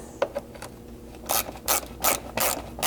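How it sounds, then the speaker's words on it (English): Torx fasteners being backed out with a T30 bit from trim at a rear wheel opening on a Lexus LX 570, giving a few short ratcheting and rubbing bursts, close and fairly quiet, with no talking. "The Torx fasteners in here can be removed with a T30 Torx bit."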